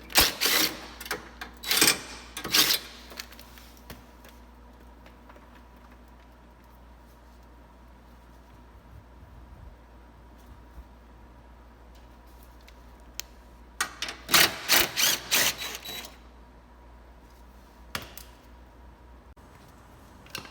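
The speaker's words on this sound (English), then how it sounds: "And then there's two more bolts on the underside of the headlight." Bolts on the underside of a Honda Pilot headlight being loosened, with bursts of rapid ratcheting clicks near the start and again toward the end, separated by a long quiet stretch.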